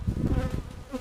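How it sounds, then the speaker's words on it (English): Bees buzz around beehives near a river on a warm day, a close, low droning hum filling the short moment. "There's one of them got bees just hanging out of the edges of it."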